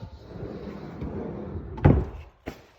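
Hidden compartment door in a wooden hall tree cabinet, opened by turning a knob: a soft rubbing rumble, then a sharp wooden knock and a second lighter clack near the end, close by with no talk.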